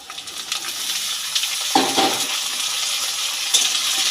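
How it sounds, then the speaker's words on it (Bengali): Potatoes and onions fry in a pan with a steady hiss, while a spatula stirs and scrapes with a couple of louder clinks. "আলু আর পেঁয়াজ ভালো করে ভেজে নেবো"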